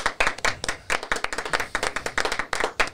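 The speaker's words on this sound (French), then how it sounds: "On applaudit." A few people clap in a small studio, a sparse, uneven burst of distinct close handclaps repeated over about three seconds, with no voices.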